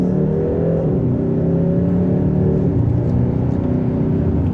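A 2025 Hyundai Sonata N-Line sedan accelerates hard in sport mode and second gear, its engine droning steadily and loudly throughout with a rising whir, heard from inside the car with no talking.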